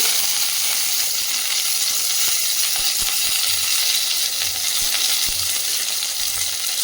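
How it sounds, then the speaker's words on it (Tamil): Mustard seeds and curry leaves sizzling in hot oil in a kadai, a loud, continuous hiss with scattered sharp pops and crackles close by. "சூடான கடாயில் ஆயில் விட்டுட்டு கடுகு, கருவேப்பிலை"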